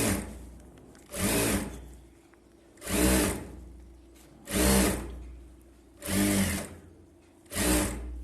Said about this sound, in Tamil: நல்லா ஓரத்தில் எஜ்ஜு தையல் போடுங்க.